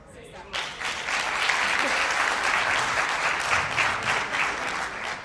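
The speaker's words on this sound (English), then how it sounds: "pour faire arrêter les applaudissements" Applause at a political press conference where government officials make an announcement at a Liberal caucus retreat: sustained, dense clapping from a crowd that starts abruptly after a brief voice and continues steadily.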